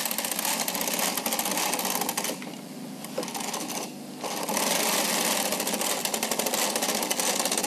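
A Bond Classic knitting machine knits two rows, its carriage rattling in a steady, dense mechanical clatter that dips briefly mid-pass before resuming at full loudness, close and alone.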